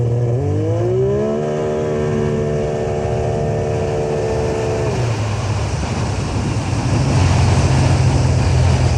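A turbocharged three-cylinder Can-Am side-by-side revs hard, its engine note climbing and holding a high whine before dropping away into loud wind rush and rumble.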